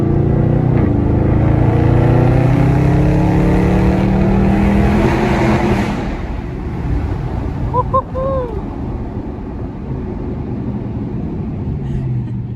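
A car engine revs loudly through a tunnel in downtown Atlanta at night, a deep booming roar for several seconds that then eases off into a quieter rumble with echoing traffic noise.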